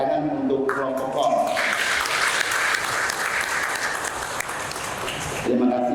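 Church wedding congregation in Bodok applauding the choir, a sustained burst of clapping swelling in the middle, with a voice speaking before and after it.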